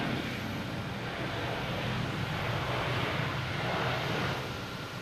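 A United Boeing 737 departing Boston Logan for Chicago produces a continuous, dense jet roar, steady and moderately loud throughout with a slight swell near the end.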